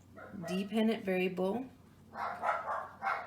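Dogs bark several times in a house during an online statistics lecture. The short barks come through after a voice and sit slightly distant under his talk.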